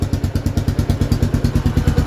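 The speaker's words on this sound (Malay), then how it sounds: "Bunyi enjin macam ni lah." A 57 basic motorcycle engine fitted with an NLK exhaust runs steadily at close range, its rapid even pulsing thump repeating throughout with no talk over it.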